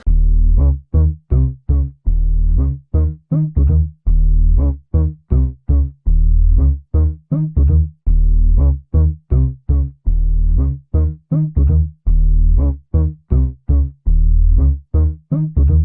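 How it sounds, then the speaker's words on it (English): A punchy synth bass line from an Incredibox mod pulses in short, rhythmic notes, repeating a driving pattern alone without vocals, loud and upfront. "Dude, that bass was the bassiest bass I've heard in a while."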